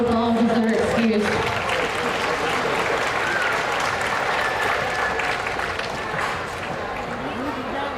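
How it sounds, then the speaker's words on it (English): An audience at a county fair livestock show applauds steadily, a dense crowd clapping that fades slightly toward the end, with an announcer's voice heard at the start. "Give those kids a round of applause as they're excused."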